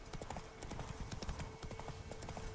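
Horse hooves clip-clop at a quick, steady pace while riding in The Witcher 3: Wild Hunt, a dense run of close, clattering footfalls with a faint tonal hum beneath.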